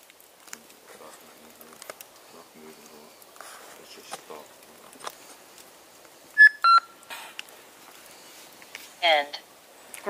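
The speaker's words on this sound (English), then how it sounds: "What's that beeping?" Electronic beeps heard at night during an overnight camping stay in the Cannock Chase woods, a few short tonal chirps in the middle and a brief warbling burst later, spaced among quiet rustles and soft talk.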